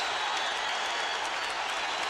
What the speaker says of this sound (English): The crowd standing on its feet here